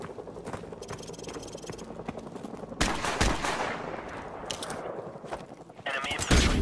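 Covering gunfire in Modern Warfare, rapid rifle and machine-gun bursts rattling from mid-distance, then a louder, closer volley around the middle, with another burst near the end amid battlefield noise.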